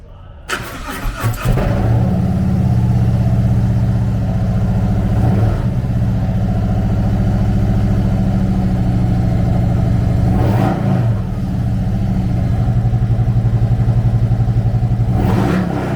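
A 2020 Harley-Davidson CVO Electra Glide Ultra Limited with a 117 cubic inch V-twin engine starts, then runs with a loud, steady rumble, with a few blips of the throttle rising and falling at intervals.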